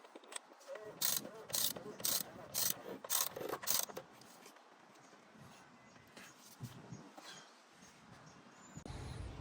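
A ratchet tightens the oil filter housing cap on a BMW S55 engine from an M2, M3 or M4. Several quick, raspy ratcheting bursts come close up early on, then trail off into quieter handling noise.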